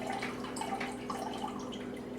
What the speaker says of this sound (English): And instantly it starts puking out water.